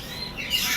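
Grey parrot in a pet shop letting out a brief, fairly loud squawking call over a steady hiss of room noise, with no talk in the moment.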